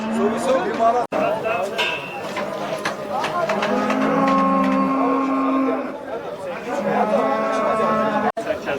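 Cattle and heifers at a livestock market in Erzurum, with loud, drawn-out moos from nearby animals rising over a busy background of people talking.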